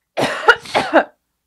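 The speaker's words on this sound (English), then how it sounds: "You're coughing." A person coughs a few times in quick succession, close and fairly loud, followed by silence.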